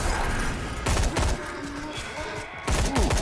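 Gunfire in the video game Sker Ritual, aimed at a rat: two loud, close bursts of rapid shots separated by a quieter stretch of game ambience.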